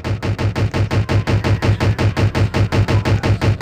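Rapid automatic gunfire in an SCP video game, a steady burst of evenly spaced loud shots repeating about five times per second, with no voices over it.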